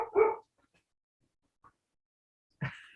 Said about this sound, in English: I'm just going to close the door to lower the dog barking sounds.